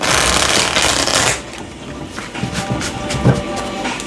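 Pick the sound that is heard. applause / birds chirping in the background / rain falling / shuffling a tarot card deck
shuffling a tarot card deck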